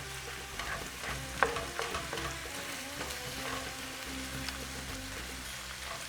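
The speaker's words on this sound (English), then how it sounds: "you let that cook a little bit for the garlic to soften and get aromatic" Garlic sizzles in a pan, a dense, steady crackle up close, with a few light clicks of a utensil, cooking for Moroccan beef with green beans.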